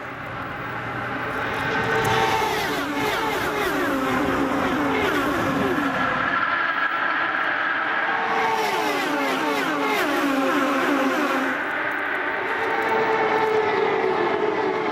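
IndyCar race cars scream as they accelerate together at a restart in Kansas, their engines rising in pitch in repeated waves as the pack climbs through gears, loud and continuous with no speech.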